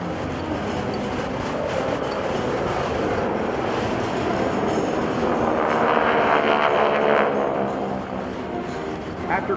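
GEICO Skytypers aircraft fly in diamond formation at the 2012 Joint Base McGuire-Dix-Lakehurst open house airshow, producing a loud, steady, continuous engine roar that swells slightly midway and holds throughout.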